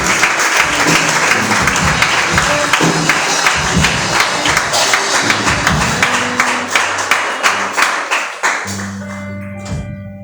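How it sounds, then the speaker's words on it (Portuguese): A church congregation applauding during a worship service, dense clapping that thins into a few distinct claps, then gives way to sustained musical tones at the end. "E as palmas no nome do Senhor."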